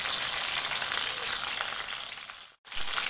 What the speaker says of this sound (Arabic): نخلو الدجاج تاعنا ياخذ هذيك التقلية الخفيفة